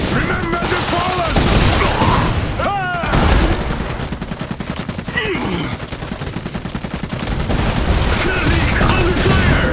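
Gunfire in the video game Iron Harvest, a dense, loud, continuous battle din of rapid shots and booms that runs the whole time, with game voice barks and faint tonal effects mixed in.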